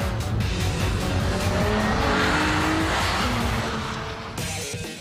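Nissan Z drifting in Gran Turismo, a steady engine roar under long, continuous tire squeal as the car slides, loud and close throughout, no talking.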